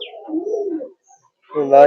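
A pigeon coos softly up close, a low throaty warble, then after a short pause a second, louder burst of cooing.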